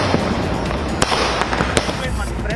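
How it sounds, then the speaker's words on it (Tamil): Diwali fireworks and firecrackers bursting across Chennai neighbourhoods, with a few sharp cracks standing out over a dense, continuous rumble of celebration noise, and voices mixed into the din. "சென்னையில் கண்கவர் பட்டாசுகளை வெடித்து மக்கள் தீபாவளியை கொண்டாடி மகிழ்ந்தனர்"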